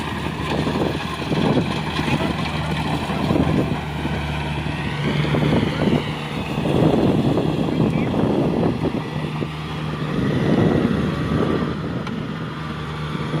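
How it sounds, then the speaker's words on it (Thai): Strong wind buffets the microphone in an open rice field while a combine harvester works in the distance. A steady roaring rumble runs throughout, with people talking over it. "ลมแรงจัด"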